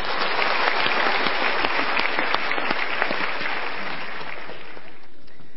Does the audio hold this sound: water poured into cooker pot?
no